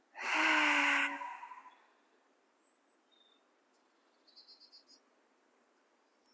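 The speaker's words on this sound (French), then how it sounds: "Dernière fois, inspire par le nez, expire par la bouche." One long, deep breath, strong and close, fades after about a second, followed by quiet room tone and faint chirps, with no talking during a yoga breathing exercise.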